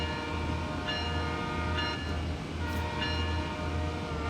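A train passes in Train Sim World 6 on the CN Ontario line, a steady low rumble of railcars with a horn sounding in several short blasts over it, close and loud, no talk.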